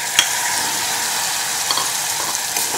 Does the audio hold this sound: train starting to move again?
no